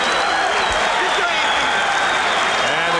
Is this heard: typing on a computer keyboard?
no